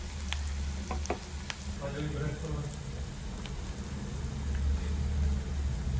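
Ground masala paste frying and being stirred in oil in a pan, a continuous close sizzle with occasional spatula scrapes and clinks, while a voice speaks over it.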